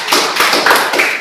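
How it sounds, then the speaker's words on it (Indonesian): A group of school participants at a positive-culture training session clap their hands, a short burst of loud, close, uneven claps in quick rhythm. "Lagi tepuk tangan buat semua."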